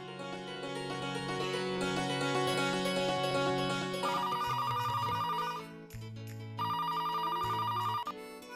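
A telephone rings indoors in a household, its repeating electronic ringtone melody playing loudly and alone in several bursts with brief gaps between them.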